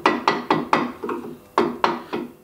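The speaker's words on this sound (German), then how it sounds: "Mit Hammer und Stechbeitel formt Stefan aus den Ringen höckerartige Erhebungen auf der Pfeife." Hammer and chisel strike a bagpipe pipe's rings to raise bumps, a run of sharp close knocks in a steady rhythm with a short pause partway, each hit ringing briefly against wood.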